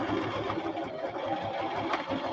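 A sewing machine runs steadily, stitching a tiny fabric pocket dangle for a junk journal, with a continuous close whirring hum and no talk over it.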